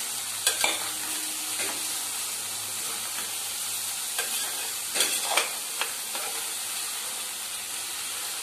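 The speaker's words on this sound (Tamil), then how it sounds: "இது எண்ணெயிலே கொஞ்சம் நல்லா வதங்கினா நல்லாயிருக்கும்" Cabbage sautéing in oil in a home kitchen pan, a steady broadband sizzle with a few scraping stirs of the spoon, close and moderate in level, no voices.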